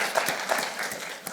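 A scattered audience at a panel discussion on water and sanitation services claps unevenly, with a few distinct hand claps standing out over a light, thin patter of applause.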